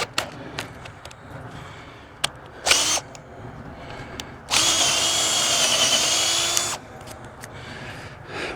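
A power drill boring a hole during a fan dipole antenna build: one sustained, loud high-pitched whir of about two seconds, preceded by a few short clicks and a brief burst, with no talk.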